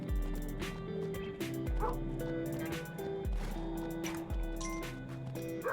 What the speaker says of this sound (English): You guys hear the dog barking?